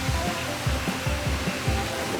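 Strong wind blows near the ocean and dunes at Florianópolis, Brazil, roaring steadily into the microphone with low buffeting gusts and a constant hiss of blowing sand.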